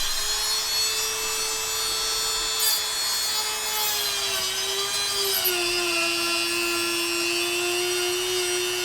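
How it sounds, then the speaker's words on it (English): A Dremel rotary tool cuts through the case of a GoPro Hero 10, with the camera moved against the bench-rested tool. A steady, close, high grinding whine runs throughout, dipping slightly in pitch as the load changes. "I have the Dremel resting on the bench, and I'm moving the GoPro"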